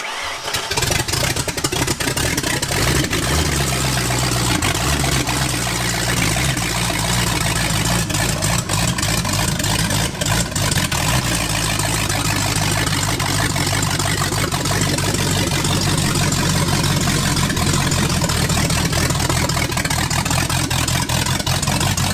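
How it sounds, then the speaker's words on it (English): A rebuilt 1993 Ford Mustang Foxbody engine runs steadily on its first start, a continuous low rumble with a slightly rough, uneven idle and no voices. "The motor's running."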